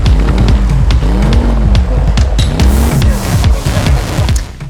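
A small car zooms past at speed, loud and close, with engine notes sweeping up and down in repeated bursts and a brief tyre-like hiss, no voices.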